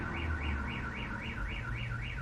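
A car alarm wails in a rapid rising-and-falling siren cycle, repeating about every quarter second at a steady level over a low background hum, with no talking.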